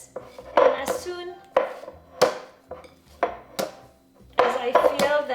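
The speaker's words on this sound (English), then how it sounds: "I'm just pulling it, taking it out and beating it back into the bowl" Soft pita dough being pulled from a bowl and slapped back into it, making several dull, irregular thuds and slaps spaced about a second apart, close and moderately loud, with no talking.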